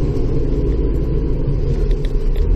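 Steady road traffic on a Saturday morning in Bay Roberts, Newfoundland, after the first snow, a continuous loud low rumble of car engines passing nearby with no talk.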